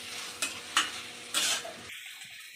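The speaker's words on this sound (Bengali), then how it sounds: "এইভাবে আমি আলুটা 5 মিনিট মতো ভেজে নেব।" Potatoes fry in a spicy masala in a pan, a soft sizzle punctuated by three quick stirring scrapes before the hiss drops away abruptly near the end.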